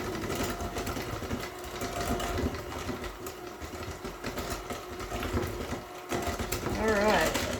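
Peanut butter donut batter is stirred by a mechanical mixer with a continuous buzzing whir, moderately quiet, while people talk over it.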